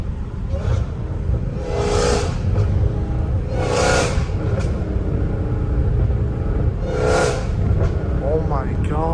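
Dodge Challenger Hellcat Redeye engine with a loud supercharger whine, revved in three strong surges over a deep idle rumble, with voices in between.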